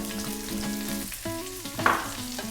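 Garlic, ginger and onion sizzle and crackle in hot oil in a pan for Filipino chicken curry, a close, steady frying hiss with brief stirring scrapes and an occasional sharper pop, under a tonal background of music.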